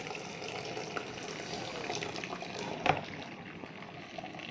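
Starch water draining from cooked rice through a hole in a tilted pot lid, a soft, steady trickle and gurgle with one brief louder splash midway, quiet and close.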